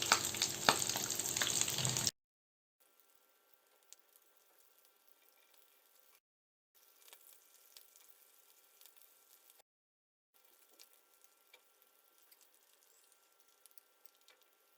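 Cheese and potato balls frying in a pan give a loud, dense sizzle for about two seconds, then cut off to near silence with only faint, scattered sounds.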